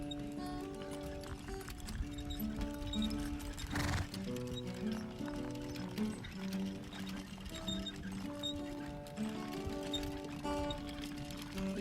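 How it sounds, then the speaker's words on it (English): A working horse draws a single row seed drill while planting popping corn, its faint steady footfalls and clinking, rhythmic machine noise heard together with tonal musical notes over the whole stretch. "He's an amazing horse to work with, but planting one row at a time is a long time for anyone to hold their concentration."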